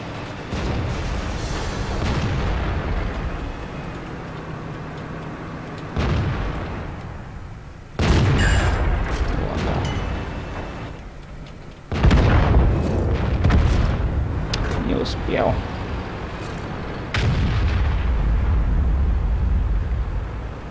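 Tank cannon shots and explosions in the World of Tanks video game, a series of loud booming blasts repeating every few seconds with rumbling tails between them.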